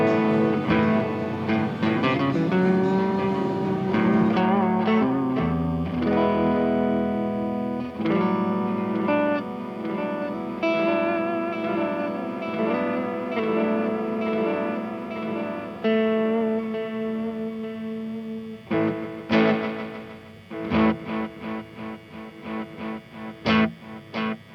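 An electric guitar plays through a wirelessly controlled echo effects pedal at a trade show. Sustained, layered chords ring with repeating echoes, and sharper, choppy strums follow near the end, without talk.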